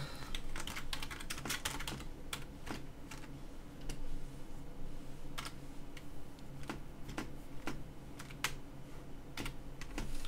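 Business listing details are typed on a computer keyboard in a steady, close stream of crisp clicking keystrokes, with a few louder taps standing out over a faint room hum and no talking.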